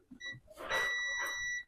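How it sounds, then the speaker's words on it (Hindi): Multimeter continuity buzzer sounding on an SMD fuse inside an all-in-one computer, a short steady electronic beep held for about a second after brief handling noise, close and moderately loud. "अगर ये फ्यूज है और बजर पे बज रहा है"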